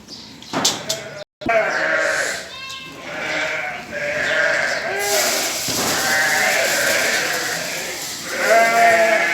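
Many fattening lambs bleat overlapping and continuously nearby in a lamb barn at feeding time, with a sharp knock early on and a person speaking underneath.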